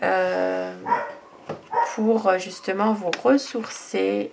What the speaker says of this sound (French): Désolée pour le chien qui aboie.